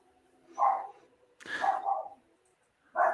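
Several dogs bark in three separate bursts, a single yelp, then a longer doubled bark, then another sharp bark, fairly close with quiet gaps between.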